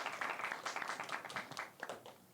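A small audience at a youth mock-investment report event gives brief, scattered applause as the instructor is called to the stage. The individual claps are uneven and fairly quiet, and they thin out after about two seconds.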